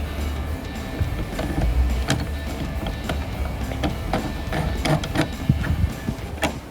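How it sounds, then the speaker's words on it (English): Hand rivet tool squeezing a rivet while fitting a wicker-bill rear spoiler on a 2015-2023 Dodge Charger, a series of sharp ratcheting clicks and creaks from repeated squeezes over a steady background hum. "And our last rivet for our last time, and give it a couple of squeezes."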